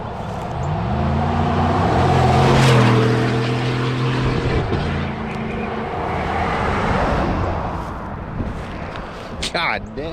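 A truck roars past on the road with loud tire hum and engine drone rising and falling, its pitch sliding as it goes by, while people talk over it.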